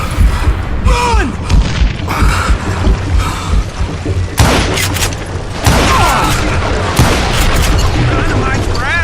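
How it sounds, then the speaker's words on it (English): Dynamite blasts in the Western shooter game Call of Juarez Gunslinger: loud booming explosions and heavy thuds crash repeatedly amid gunfire and shouted voices, with a big burst around the middle and rumbling debris after. "Dynamite for assholes who can't shoot!"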